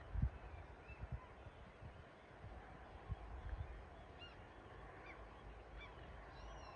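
Ducks and small birds call intermittently outdoors in northern Norway under the bright midnight sun, a few faint honking, goose-like calls and higher chirps over a steady low background rumble.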